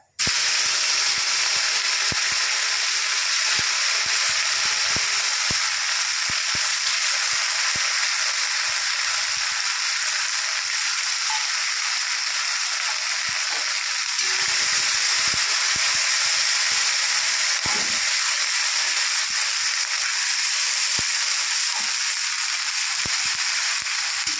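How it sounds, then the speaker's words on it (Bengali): Ginger, cumin and green chilli paste dropped into hot tempering oil with dried chillies, producing a loud, steady, close hissing sizzle that runs continuously throughout, with faint utensil clicks underneath. "এবার আমি দিয়ে দেবো আদা আর জিরে বাটা আদা আর কাঁচা লঙ্কা বাটা"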